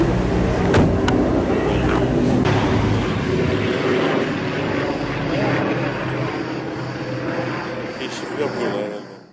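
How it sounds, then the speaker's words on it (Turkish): A firefighting aircraft flies over a wildfire near Bodrum, Turkey, its loud propeller engine droning close by and then slowly fading, with faint voices underneath. "Yangının söndürülmesinin ardından soğutma çalışmaları iki yangın uçağı ile yapıldı."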